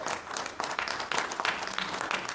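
An audience at a company CEO talk bursts into hand clapping, with irregular waves of claps that swell and fade across a couple of seconds, moderately loud and without speech.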